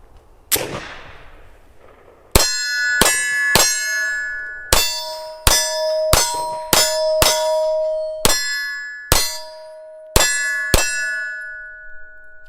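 A Smith & Wesson CSX 9mm pistol fires at steel targets from seven yards: an opening shot, then a quick irregular string of sharp reports, each followed by a ringing metallic clang from the struck steel.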